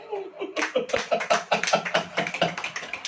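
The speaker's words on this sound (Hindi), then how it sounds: "ताली बजाओ" A church congregation claps along during a Hindi sermon, steady rhythmic hand claps close and loud, continuing for about three seconds.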